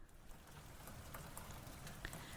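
Steady rain falls in the Kokorogawari game scene, a soft continuous patter of drops holding an even level throughout with no voices over it.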